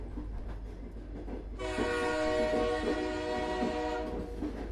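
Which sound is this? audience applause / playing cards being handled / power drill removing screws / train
train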